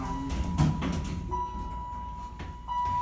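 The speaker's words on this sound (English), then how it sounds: "Instant door closed, rude closing" A Dover/Marshall Oildraulic Marquis elevator door in an apartment building slides shut abruptly with a rumbling clatter, followed by a steady tone, close by and moderately loud.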